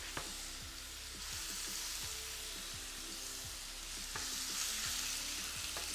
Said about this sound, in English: Now you're going to add your meat right in, just like this.